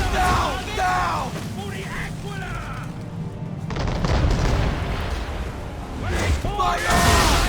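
Ship cannons fire a broadside in Assassin's Creed III, heavy booming blasts rolling under shouted commands and battle noise, with a dense sustained rumble through the middle and another burst near the end.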